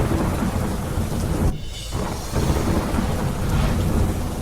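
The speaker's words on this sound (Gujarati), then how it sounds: "કુકરાણામાં વરસ્યો વરસાદ." Heavy monsoon rain pours steadily with rumbling thunder during a rain spell in Harij taluka, Gujarat; a dense, continuous roar of rainfall with a brief dip before the downpour resumes, no voices.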